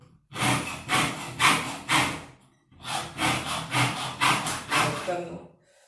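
Saw cutting through metal for Mapuche-style jewelry, a steady rasping back-and-forth in two runs of repeated strokes, close and fairly loud.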